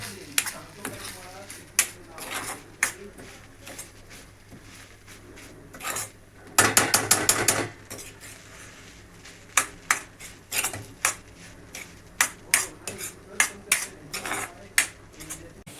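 Soybean bhurji stirred in a pan with a spoon, a run of sharp metallic clinks and scrapes spread through the clip, including a rapid burst of rattling taps near the middle, with a steady low hum underneath.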